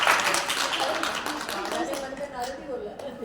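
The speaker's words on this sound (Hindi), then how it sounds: "ताली तो बजाओ यार" An audience at a spiritual quiz session claps their hands in a dense, sustained patter that gradually thins, with voices talking over it.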